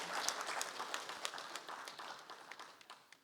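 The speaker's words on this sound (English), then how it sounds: "A round of applause for him." Audience applause at an engineering lecture honouring the head of Sahara Power Group, a scattered patter of many hands that thins and fades over a few seconds, moderately distant and fairly quiet.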